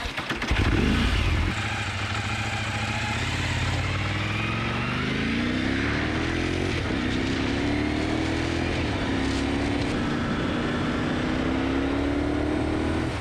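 A Motus MST-R sport tourer motorcycle riding on the road, its engine droning steadily and loudly with rising pitch as it accelerates through the gears, no talk over it.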